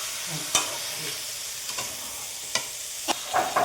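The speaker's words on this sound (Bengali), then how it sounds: "এটা নেড়ে চেড়ে নেবো আমি সবকটা" Meat seasoned with salt and turmeric is stirred in a pan, a spoon scraping in several distinct strokes over a soft, continuous sizzle, fairly quiet and close.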